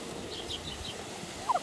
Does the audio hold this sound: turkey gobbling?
yes